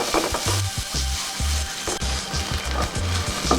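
Onion and garlic sizzle in hot oil while being sautéed for salted egg broccoli, the frying hiss steady and close, broken by repeated knocks of a utensil stirring the pan.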